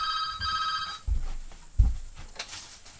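A Nokia 1100 mobile phone rings when a call is placed, giving a bright, close electronic ringing tone for about a second, followed by handling knocks and clatter.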